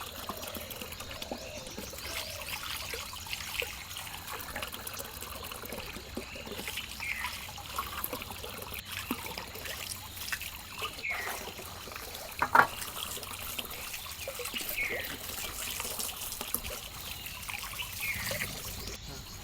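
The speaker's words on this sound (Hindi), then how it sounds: "मैं आम और पुदीना को धो लेती हूँ।" Mangoes and mint leaves are washed under running water, giving a soft, continuous trickle and splash close by, with a brief clink partway through.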